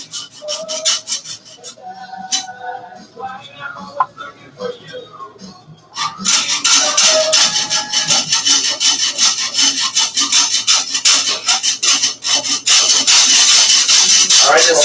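A handsaw cutting through wood in steady, rhythmic back-and-forth strokes, quieter at first and then loud and fast, with the blade scraping against steel partway through.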